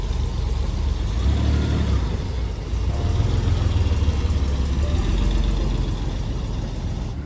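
Classic cars roll out from a concours d'elegance venue, their engines idling and revving at mid pitch, close by and continuous, with louder surges as each car pulls away.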